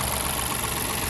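Toyota Yaris Cross 2021 with a 1.5-litre three-cylinder M15A-FKS engine idling, a steady, even mechanical hum with low rumble and no speech over it.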